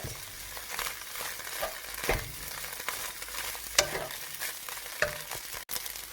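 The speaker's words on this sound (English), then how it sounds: "I'm gonna put all my rice. Just try to break it." Rice sizzles in a pan as it is stir-fried and broken apart, with steady frying hiss and occasional sharp scraping clicks from the utensil. Close and moderately quiet, with no talking.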